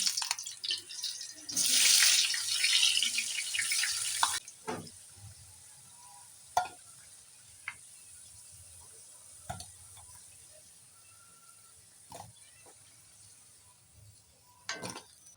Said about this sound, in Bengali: এবার আমি আলুগুলো বেজে নেব